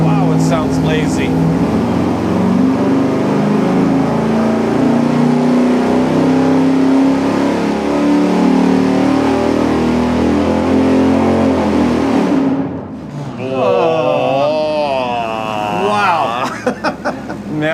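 A 440 V8 with its camshaft advanced 10 degrees total strains through a long, loud pull on an engine dyno, pitch climbing steadily before it cuts off abruptly and winds down, then a voice speaks over the fading engine.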